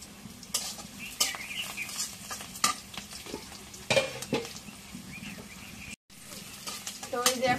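Cumin seeds crackle and sizzle in hot oil close by while a spoon scrapes and clatters against the pan in repeated stirring strokes, with a brief cut near the end.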